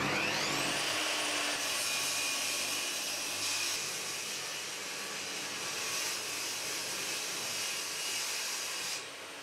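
Wooden side panels for a workshop shelf are being sawn to 150 mm width. A loud, steady rushing saw noise runs without a break for about nine seconds, then cuts off abruptly at the end, with no talking.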